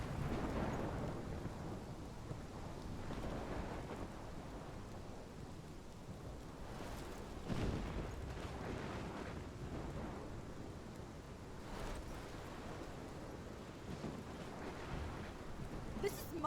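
A thunderstorm in the video game Life Is Strange, with steady rain and a low wash of wind, broken by several rolling rumbles of thunder; no one speaks.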